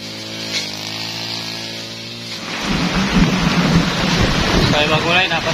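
Heavy rain pours down on farmland at planting season, a loud dense hiss that surges after a quieter start, with wind buffeting the microphone and someone talking under it.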